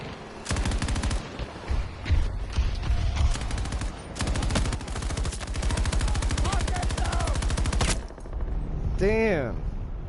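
Light machine gun fire in Battlefield 2042 hardcore Portal mode, long sustained automatic bursts with brief pauses, loud and close, mixed with distant gunfire and game effects, a short tonal cue near the end.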